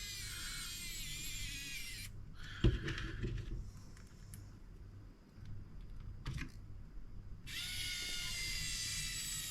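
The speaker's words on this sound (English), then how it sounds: "So I will get these screws in tight enough and then finish it off with a hand screw for sure." A power drill driving screws into an RC car, whirring in steady high-pitched bursts at the start and end, with quieter clicks and handling sounds between.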